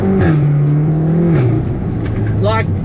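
A tuned Audi S3 with a 2-litre four-cylinder single turbo engine revs up and down inside the car, the engine drone rising and falling under loud nearby engine noise, with crackling pops near the end.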